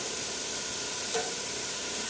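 Chopped celery, onion and thyme sizzling gently in a pot as the base for a fish soup, a soft, steady hiss held at low heat with one brief stir partway through.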